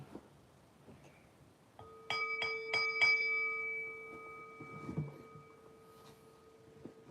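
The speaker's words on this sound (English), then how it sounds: "I'll strike the bell like so." A bell is struck several times in quick succession, its clear metallic tones ringing on and sustaining for several seconds in a quiet room.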